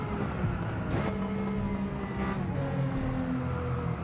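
A Lamborghini Countach engine in Gran Turismo 7 on the Tokyo circuit revs steadily near the top of its range, a loud continuous drone with a slight pitch shift as it holds high revs.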